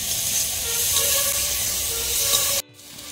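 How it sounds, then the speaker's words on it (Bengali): Potatoes fry in oil with a loud, steady, close hiss that cuts off abruptly near the end, leaving a quieter background. "তো এবারে আলুটা ভেজে নিচ্ছি"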